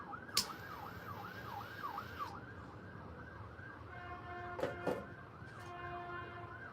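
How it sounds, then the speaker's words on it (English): Emergency vehicle sirens wail in a rapid rising-and-falling cycle, then shift to steadier tones over distant traffic rumble, with a couple of sharp knocks in between. "With what, the sirens?"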